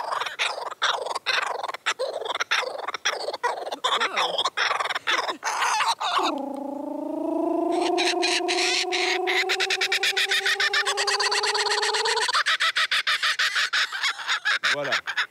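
A laughing kookaburra in the Drôme gives a loud, close call lasting several seconds, a rising, rolling cackle that follows a run of rapid clicking chatter and fades into scattered clicks.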